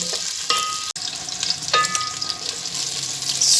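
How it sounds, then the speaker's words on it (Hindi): Onions frying in a pan until lightly browned for green beans with chicken give a loud, steady sizzle and hiss, with occasional stirring scrapes and no talk. "तो जी प्याज़ों को करते हैं हल्का सा ब्राउन"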